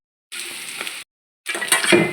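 Banana filling with spice powder frying in ghee in a hot pan, two short bursts of bright sizzling with faint stirring scrapes and a pause of silence between them.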